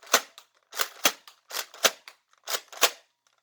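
Nerf Zombie Strike Doominator blaster firing foam darts: seven sharp snapping shots, loosely paired and spaced through the stretch, close and fairly loud with no talk.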